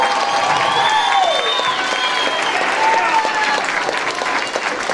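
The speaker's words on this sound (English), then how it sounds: "Let's give them a big round of applause." An audience at a school Grinch production claps in a loud, sustained round of applause, with a few cheers and scattered voices rising through the dense clapping.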